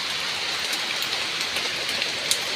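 Steady, dense rain pours down outside a boarding house in the Philippines, a constant hiss of drops hitting surfaces with no other sounds standing out.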